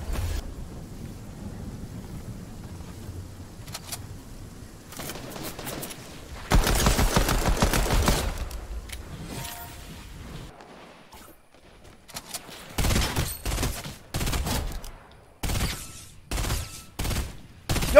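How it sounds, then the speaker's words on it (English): Bursts of rapid gunfire from the Fortnite video game, loud and crackling, repeating in several clusters with short gaps between volleys, layered with game effects and no speech. "Yo, you can shoot through foliage now!"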